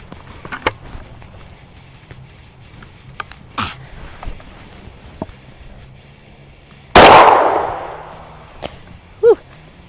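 A Berika Arms SS410 .410 single-shot shotgun fires one loud, close blast that rings out and decays over about a second, with scattered handling clicks and small knocks before and after.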